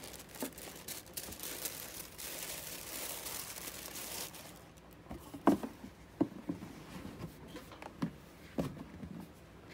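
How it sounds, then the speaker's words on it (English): Crinkling of the plastic bag packed with a pair of Alexander McQueen sneakers as the box is unpacked, a soft continuous rustle at first, then sharper separate crackles and handling sounds, close and fairly quiet, no talking. "This is the plastic bag."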